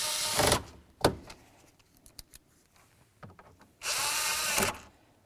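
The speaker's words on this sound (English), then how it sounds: "Put in your mounting screws." Mounting screws on a 2006-2010 Dodge RAM headlight switch are driven in with a power driver, giving two loud whirring bursts at the start and end with scattered clicks and small tool sounds between them, and no speech.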